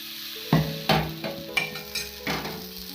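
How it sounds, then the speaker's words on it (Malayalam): Appam batter hits a hot palappam pan, giving a soft sizzle broken by several sharp clinks and scraping taps at an uneven pace, close by, with no voices. "ചൂടായ പാലപ്പച്ചട്ടിയിലേക്ക് നമുക്ക് ആവശ്യത്തിനുള്ള മാവ് ഒഴിച്ചു കൊടുക്കാം."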